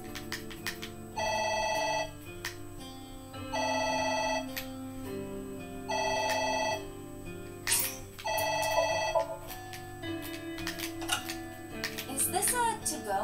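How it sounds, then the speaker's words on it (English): A telephone rings in the video game AI: The Somnium Files, four evenly spaced electronic ring bursts with short gaps between them, followed by clicks and soft background game sounds. "The phone is ringing."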